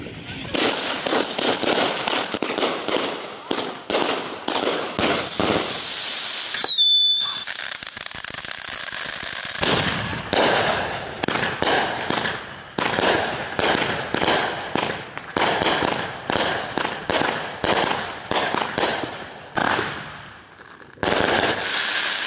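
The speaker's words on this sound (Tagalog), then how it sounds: "Lumubos na yung fireworks," Rapid crackling bursts of 30-shot fireworks going off in quick succession on the 4th of July, with a brief whistling squeal partway through and short pauses between volleys.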